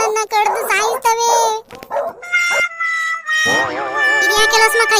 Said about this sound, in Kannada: ನಾಯಿಗಳು ಒಟ್ಟಿಸ್ಕೊಂಡ್ ಬರ್ತಾ ಇದಾವೆ ನನ್ಗೆ.